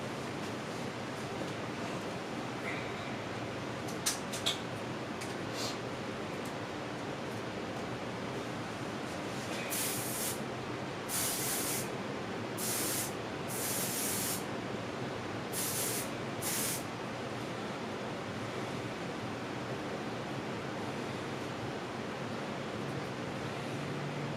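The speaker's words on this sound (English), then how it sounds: "now I'm going to take my spritz, I'm going to spray this side right here" Short hissing bursts from a spray bottle spritzing hair during a haircut, several quick spritzes in a row over a steady background hiss, close by.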